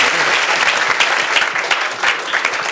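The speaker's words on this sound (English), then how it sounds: "I'm trying to keep them applauding." Steady, dense applause from a convention audience fills the room, a continuous patter of many hands clapping close and loud, with some voices faintly underneath.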